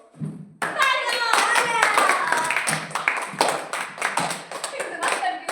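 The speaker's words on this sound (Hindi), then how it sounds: "तालियां तालियां" Children at a home tuition class clap their hands in quick, uneven bursts close to the mic, mixed with excited voices talking over the claps.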